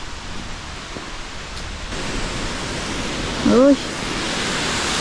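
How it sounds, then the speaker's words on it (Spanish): A river flows in a steady broadband rush, moderately distant and even, heard on a quiet morning walk in Tbilisi, with a brief exclamation from a voice partway through. "Nada más se oye el sonido del río."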